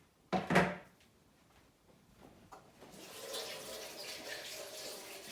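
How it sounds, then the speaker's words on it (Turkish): Tap water runs steadily into a sink as hands are washed, starting after a couple of louder knocks and clatters and holding a soft, continuous splashing hiss to the end. "Dur ben şurada ellerimi bir yıkayıvereyim de."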